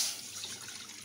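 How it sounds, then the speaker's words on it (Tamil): A tumbler of water is poured into a kadai (wok-style pan) set on the stove, giving a brief, soft watery splash and trickle that fades quickly. "ஒரு டம்ளர் தண்ணி ஊற்றிக்கிட்டோம்."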